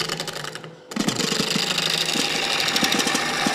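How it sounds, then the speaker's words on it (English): A lathe gouge roughs out a live-edge wooden bowl, cutting with a rapid, rhythmic chattering rasp. It stops briefly near the start, then resumes loud and continuous. "I'm righting the bevel of the tool as I'm cutting"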